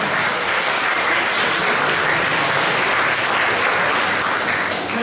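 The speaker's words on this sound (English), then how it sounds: "Again, big round of applause for our S2." Steady, dense applause from a school audience at a junior prizegiving ceremony, loud and continuous throughout with no break.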